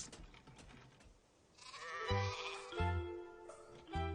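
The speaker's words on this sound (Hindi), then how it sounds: "कुछ भेड़ों को एक जगह लाना कोई बहुत बड़ा काम नहीं है।" Sheep bleating in an animated cartoon, a few short cries rising over background music and effects, fairly close and moderately loud.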